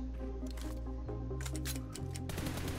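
Rapid gunfire from PUBG Mobile rings out in repeated bursts while shooting at targets at increasing distances, with sharp shots layered over continuous game sound and music.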